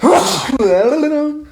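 A single loud, close sneeze bursts out, followed immediately by a short voiced exhale.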